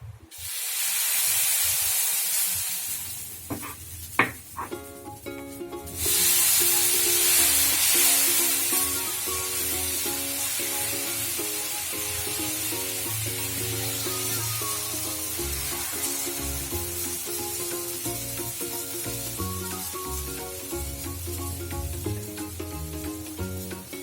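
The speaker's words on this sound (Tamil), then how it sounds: "இப்போ டவா சூடாயிடுச்சு. இப்போ நம்ம தோசை ஊற்றிக்கலாம்." Crispy ada dosa batter hits a hot tawa with a sharp, close hissing sizzle that flares twice in the first several seconds, then continues quietly under steady background music.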